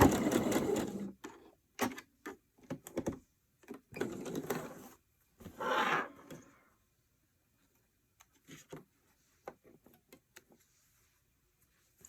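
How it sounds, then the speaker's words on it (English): A sewing machine back stitches lace trim onto a fabric journal cover in several short bursts of rapid whirring stitching separated by pauses, fading to quiet handling sounds toward the end. "just with a straight stitch. Go ahead and back stitch across that."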